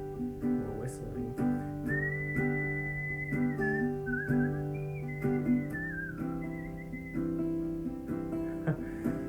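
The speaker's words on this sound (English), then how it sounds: "We're whistling." People whistle a sustained, wavering melody over a steady backing of sung harmony and instruments in a relaxed home music session, the tune bending up and down as it carries on.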